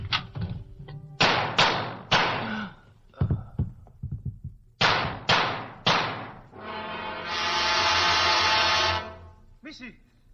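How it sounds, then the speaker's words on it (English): Several sharp, loud bangs in quick succession, like gunshots from an old-time radio drama, each cutting off abruptly, followed by a longer sustained tone and a brief voice. "I hear a gunfire."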